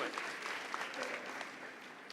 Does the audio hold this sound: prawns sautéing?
no